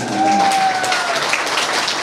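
Schoolchildren applauding together in a school gathering, a loud continuous wash of clapping from many hands, close and even throughout with a faint tonal whistle early on.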